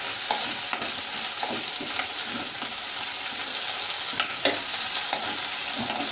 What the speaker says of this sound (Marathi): हिरवी मिरची बारीक केलेली आहे, ती ॲड करणार आहे. याला चांगलं भाजून घेणार आहे.